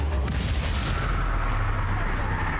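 A Confringo fire spell blasts in the Hogwarts Legacy video game: a loud, dense, rumbling boom that holds steady with no pause throughout.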